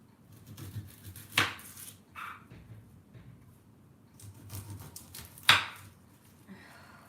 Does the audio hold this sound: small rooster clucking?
no